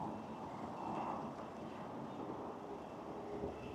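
Strong wind buffets the microphone during a bike ride in a Taipei sports park, a steady low rumbling roar that stays fairly quiet and unbroken, with no voices over it.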